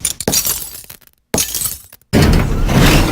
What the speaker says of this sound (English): More glass breaking.